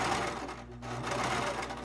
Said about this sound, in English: I always do a little back stitch on there just to make sure everything is tight.